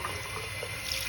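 Hot water runs steadily from a tap for washing a towel, a continuous close hiss and splatter with no voices.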